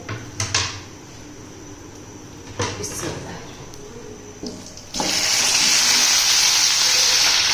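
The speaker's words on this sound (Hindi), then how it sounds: "अब इसके अंदर हमने रान जो है उसको फ्राई करना है, एक साइड से कलर देना है।" A leg of goat (raan) dropped into hot oil in a kadai sets off a sudden loud, sustained sizzle and hiss after a few knocks and handling sounds, continuing strongly to the end.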